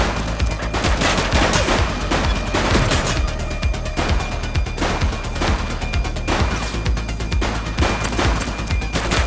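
Dense, loud gunfire in The Precinct video game, with rapid overlapping bursts and single shots cracking continuously throughout, close and intense.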